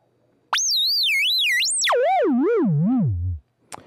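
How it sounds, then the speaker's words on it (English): A pure tone from a Malekko Richter Megawave modular synthesizer oscillator warbles high with a wobbling vibrato, then sweeps sharply downward, still wavering, before cutting off. "This is waveform 7."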